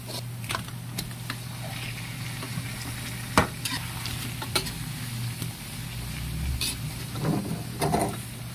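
Fish frying in a pan of oil with browned garlic, a steady low sizzle with occasional scrapes and clinks of a utensil stirring, close and moderately quiet, no talking.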